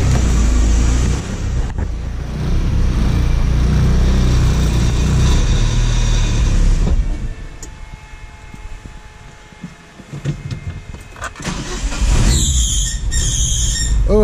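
Mitsubishi Galant VR-4 driving in first gear, with a loud engine and road rumble that eases off midway, then squeals and rattles as it picks back up.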